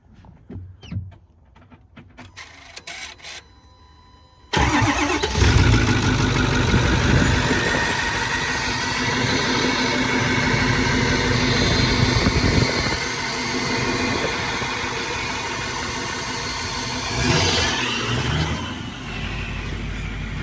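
Some faint clicks and rattles, then a Ford F350 6.4 manual pickup truck engine, intake missing, turns over and catches, running loud and steady with a rough idle for the rest.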